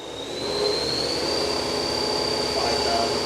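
A 2016 Leadwell MCV-1300 CNC machining center with 50-taper spindle running at 5,000 RPM gives off a loud, steady whine with a high rising tone that settles and holds, under a broad mechanical hum.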